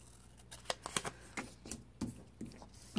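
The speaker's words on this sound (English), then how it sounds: "I'm just going to cut them off." Scissors cut through a paper planner page in a quick series of crisp snips and rustles, close and irregular, with a few sharper clicks as the blades close.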